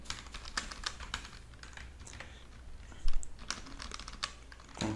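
Fingers type a terminal command on a computer keyboard in a quick, uneven run of light, close key clicks, with a slightly louder clack near the end, alone and without talk.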